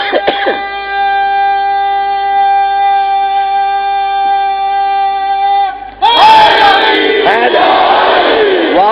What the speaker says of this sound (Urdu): اتنے خشک موضوع پر ایسا نعرہ بلند کرا دیا، کمال ہو گئی ہے